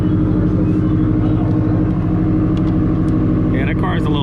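A loud, steady engine of a modified ST car with 2-step launch control rumbles throughout, close and constant, with faint voices and higher chirping noises emerging near the end.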